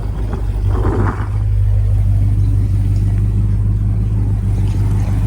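An old Dodge truck engine idles steadily with a deep, loud rumble close by, a brief rev near the start, then a constant low drone to the end.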